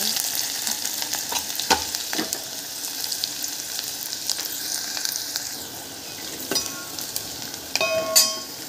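Onion sizzling in hot oil in a cooking pot with mustard seeds and cumin, the start of a sambar, with a steady close crackle and occasional sharper pops and spoon scrapes, no talking.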